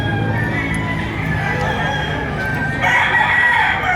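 Roosters crow at a busy poultry market in Lipa, Batangas, where bull stags are sold, a long harmonic call rising over steady crowd chatter and background bustle, louder toward the end.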